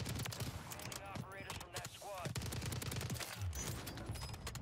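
Rapid gunfire from an STG rifle in a Call of Duty match on Rebirth Island, with dense, sustained bursts and a constant game din. A voice talks over the shots throughout.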